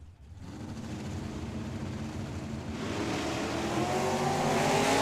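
Mustang drag car launching at Tucson Dragway, a loud engine roar that swells sharply partway through as the run gets under way, heard from trackside.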